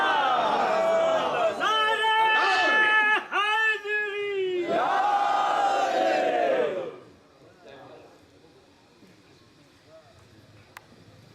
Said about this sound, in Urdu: نعرے یا علی لگا دو